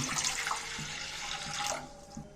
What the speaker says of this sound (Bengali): গ্যাসও জেলে দিচ্ছি জলও দিয়ে দিচ্ছি পরিমাণ মতো